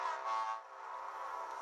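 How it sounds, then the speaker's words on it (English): Whistles from a group of cartoon tugboats at an ocean dock toot together in one sustained, harmonic blast, loudest at the start and then holding steady, with no talking. "Emily, George, Hank, and Voduk all tooted their whistles."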